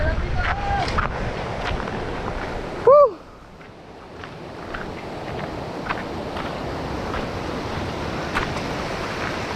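Ocean surf washes steadily against a shore, a broad continuous rush mixed with wind buffeting the microphone, broken by a brief sharp chirping tone partway through before the wave noise resumes.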